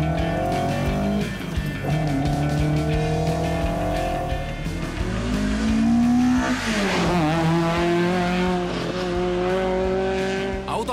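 A Fiat 131 Mirafiori rally car drives hard on asphalt in San Remo, its engine droning loud and close with rising and falling revs as the tires squeal through corners.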